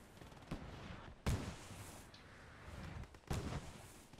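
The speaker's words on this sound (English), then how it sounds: "we got smoke artillery support" Artillery fire in a military video game, three or four deep, muffled booms spaced over a few seconds, rising out of a steady, quiet battlefield rumble.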